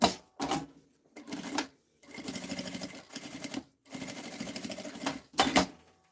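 Sewing machine stitching a seam on a cosmetic case, running in several rapid bursts of mechanical whirring separated by short pauses, loud and close with no talk.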